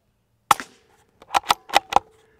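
A brand new Savage .22 rifle firing standard velocity rounds through a full titanium modular silencer gives five sharp, muffled pops: one alone, then four in quick succession, close and clear in an otherwise quiet setting.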